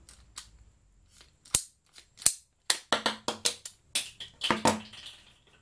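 Sharp, separate cracks and snaps as an MTX pipe cutter is squeezed onto brown PVC pipe, crushing it instead of cutting. About a dozen loud, close clicks come irregularly and then cluster toward the end, with no talking.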